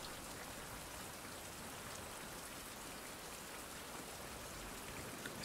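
Steady rain begins falling in the survival game Survival Fountain of Youth, a dense, even hiss of drops that fills the whole stretch without letting up, with no voices over it.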